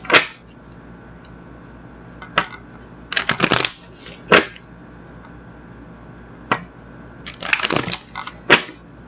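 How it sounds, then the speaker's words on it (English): A deck of cards is shuffled up close, with sharp riffling bursts and snaps at irregular intervals, and no talking. "let's get these cards shuffled up"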